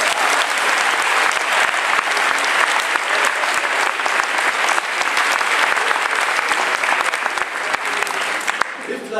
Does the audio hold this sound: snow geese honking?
no